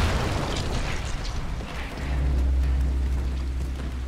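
An explosion goes off during rainy gameplay in Dying Light, a dull booming burst blended into steady hissing rain and a low rumble that swells partway through.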